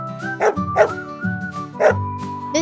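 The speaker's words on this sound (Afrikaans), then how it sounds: "Dit is 'n hond." A dog barks in a children's farm-animal sound game, giving a few separate yips and barks in an irregular rhythm over a steady musical background.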